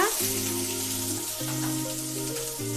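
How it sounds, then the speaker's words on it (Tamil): Finely chopped medium-size onion added to hot oil with curry leaves hisses steadily, a soft sizzle beneath sustained tonal background music with stepping pitches. "ஒரு மீடியம் சைஸ் பெரிய வெங்காயத்தை பொடியாக கட் பண்ணி வச்சுருக்கேன், சேர்த்துக்குங்க"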